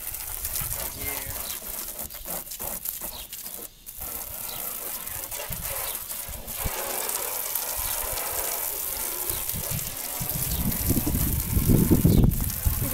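A hose sprays water to rinse soap off a truck, a close hissing gush that shifts as the stream moves, growing heavier and louder toward the end, with voices now and then.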